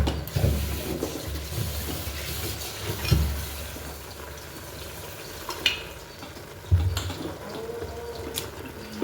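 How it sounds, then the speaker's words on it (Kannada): Mutton goes into masala frying in a pan for a mutton sambar, a steady sizzle with a few heavier thumps and clatters as the meat drops in and gets stirred, fairly close. "ಇವಾಗ ಮಟನ್ ಸೇರಿಸ್ಕೊಳ್ತೀನಿ ನನಗೆ."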